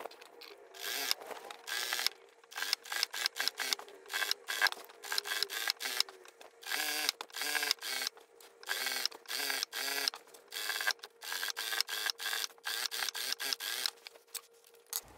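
A sewing machine topstitches a floral linen coat dress, its rapid mechanical stitching whirring in close bursts with short pauses between runs, no voice over it.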